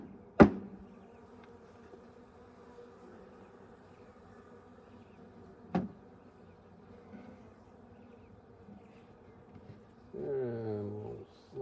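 Honeybees during a beehive inspection, a faint steady hum close by, broken by two sharp knocks from the hive boxes and a louder buzz as a bee passes near the end.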